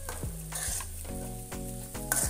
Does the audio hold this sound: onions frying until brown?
yes